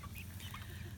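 A backyard flock of chickens, including Australorp and Easter egger birds with several roosters, clucks softly in short scattered calls over a steady low background.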